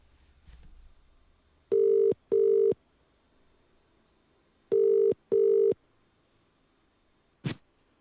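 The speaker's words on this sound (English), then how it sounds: "hopefully Hughesy will answer the phone" An outgoing phone call rings back in two double-burst pairs separated by a pause, clear and steady tones while the line waits for an answer, ending with a short click.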